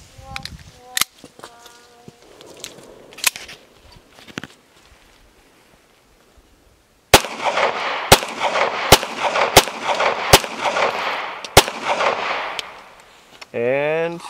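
A Taurus Spectrum pistol fires Blazer Brass ammunition: a few scattered shots, then a steady run of loud, evenly spaced reports over outdoor noise and talk, ending in a rising whine.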